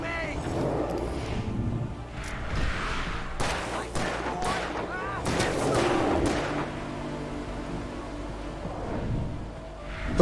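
Gunshots from Alan Wake Remastered, a video game: several sharp reports at about 3.5, 5.3 and 6 seconds ring out over game music, with speech running through the action.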